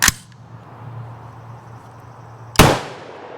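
A T91 piston AR rifle fired at an outdoor range, two sharp loud shots, one at the very start and another near the end, with a low steady hum between them.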